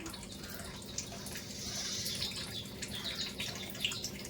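Chirraku greens being washed in water, with soft continuous splashing and trickling close by and a few small drips and clinks, no talking.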